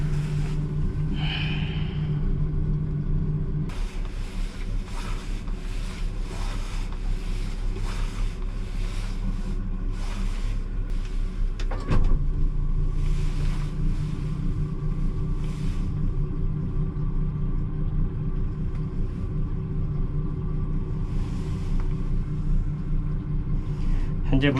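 A jet boat launched down a slipway, with a steady low engine rumble and water churn running throughout, a brief sharper burst midway, and someone talking over it.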